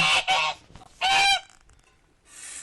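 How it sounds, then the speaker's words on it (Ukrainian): Two loud, harsh goose honks close by, one quick pair of blasts then another long honk, followed by quieter rustling and a faint hiss. "Дивіться, кого я зустріла. Гусака."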